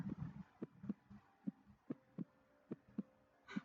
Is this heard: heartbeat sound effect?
yes